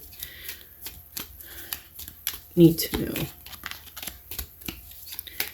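A new, stiff deck of playing cards is shuffled in a few quick papery riffles and rustles, close and moderately loud, with a person talking around it.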